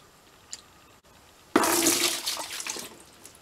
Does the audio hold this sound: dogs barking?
no